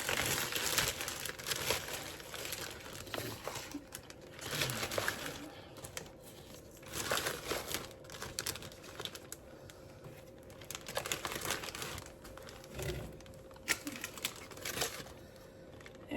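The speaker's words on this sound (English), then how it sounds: "Get these all in the Ziploc bag together." A Ziploc plastic bag crinkles and rustles in uneven bursts as spice packets are packed into it, with scattered sharp crackles and tapping, close and moderately quiet.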